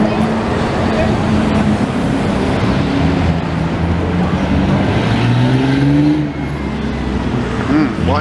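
Ford Mustangs cruise past on a Montreal street during Grand Prix week, with engines rumbling and pitch shifting as they pass close by amid traffic noise, and people talking over them.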